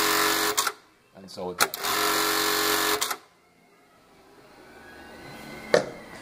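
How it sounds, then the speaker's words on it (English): A Juki LK1900B industrial sewing machine running a stitching pattern, with loud bursts of rapid mechanical whirring broken by brief pauses, followed by quieter stretches, while someone speaks briefly. "the machine should cycle and not lock off or jam"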